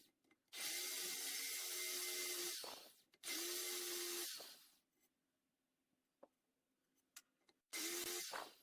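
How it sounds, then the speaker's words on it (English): Power drill with a 9/32 bit boring a hole for a cap screw head in a 1967 Camaro cylinder head, three loud whining bursts of a few seconds each, separated by quiet pauses with small clicks and taps. "we got our hole drilled there for the cap screw head"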